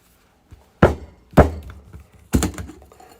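A cocktail is dry shaken in a shaker, giving three loud hollow thunks with softer rattles between, close up and without talk.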